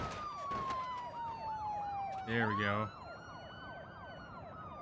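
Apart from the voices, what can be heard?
police car sirens in BeamNG video game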